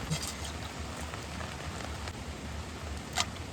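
Steady rain pours down at a camping site during a stormy, windy night, a dense continuous hiss without pause, with a brief sharper patter near the end.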